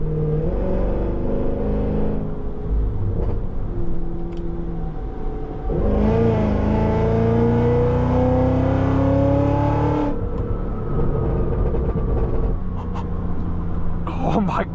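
Engine of a 2025 Hennessey H1000 Escalade-V, a 1,000 HP tuned SUV, building steadily under light throttle with a rising drone heard from the cabin, and a voice speaking over it.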